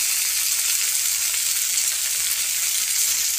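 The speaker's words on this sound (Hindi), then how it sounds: "अभी हम इसमें प्याज डालेंगे। लाल टमाटर डालेंगे," Onion and tomato frying in hot oil in a pan for spicy veg Maggi noodles, a loud, steady, continuous sizzle with no voices.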